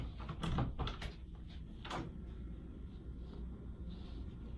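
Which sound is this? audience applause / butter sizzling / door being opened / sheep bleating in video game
door being opened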